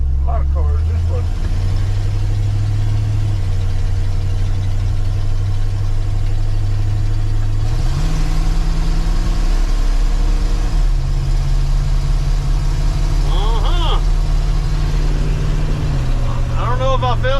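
A 1968 Ford F100 truck with a converted 4bbl carburetor and a new timing chain, engine running loud and close as it drives. The low drone steps up and down with gear changes, and someone talks over it.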